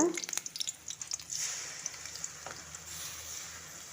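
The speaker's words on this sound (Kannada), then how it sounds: "ಈರುಳ್ಳಿ ಸ್ವಲ್ಪ ಫ್ರೈ ಮಾಡೋಣ" Onions frying in a pan for chicken curry, a soft, faint sizzle with some scattered clicks of stirring near the start, heard alone without speech.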